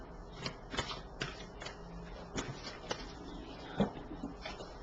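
Tarot cards shuffled by hand, a steady run of soft papery riffles and light taps at close range, fairly quiet, with no voice.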